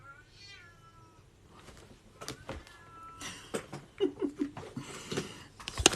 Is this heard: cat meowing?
yes